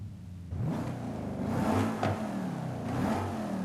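A car engine revs with a sport air intake fitted in Forza Horizon 5, a steady mid-pitched engine roar rising and falling in a few surges, fairly close and heard alone without talk.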